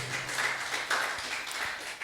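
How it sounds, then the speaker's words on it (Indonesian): A church congregation applauds in a steady, dense wash of clapping that fills a large room, moderately distant and even in level throughout. "Tepuk tangan dulu buat Tuhan kita."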